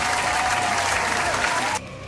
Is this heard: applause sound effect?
yes